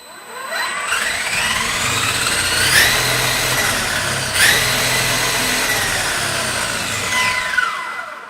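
An electric HPI Baja RC car with a Hobbywing EasyRun 800KV Max 5 motor setup spins up under forward throttle, a loud whining motor sound rising and falling in pitch over several seconds, with a couple of sharper surges.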